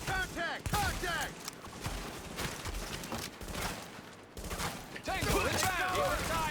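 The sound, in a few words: gunfire in a video game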